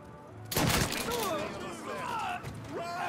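Gunfire in the video game Mafia III: a loud burst of rapid shots near the start, then scattered thuds and game effects continuing under steady background noise.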